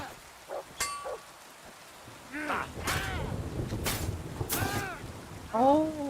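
Steady rain falls with a low rumble of thunder in Kingdom Come: Deliverance II. A person talks intermittently over the constant patter.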